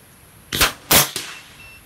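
A pellet air rifle fires during a group-shooting test, three sharp cracks in under a second with a fainter follow-up snap, close and crisp over quiet background.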